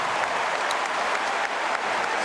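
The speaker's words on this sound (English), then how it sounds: "So some applause early" A stadium crowd at a 2014 Australian football match between Port Adelaide and St Kilda applauds in a broad, continuous wash of clapping that stays even and distant-sounding for the whole stretch.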